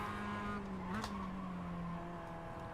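A race car in the iRacing video game blips its throttle on downshifts, a steady engine drone with a short rev flare near the middle, heard faintly at low level.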